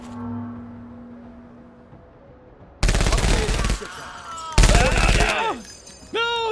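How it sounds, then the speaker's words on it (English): Heavy machine gun fire in a video game battle, coming in two long, loud, dense bursts after a quieter stretch, with a short extra burst at the end. "Oh, we got the heavy machine gunner there."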